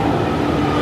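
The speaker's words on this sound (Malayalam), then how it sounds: "ഇതാണ് നീല ട്രെയിൻ." A blue metro train runs at a platform in Chennai, a loud continuous rumble of rolling wheels and motors that carries through the whole short moment.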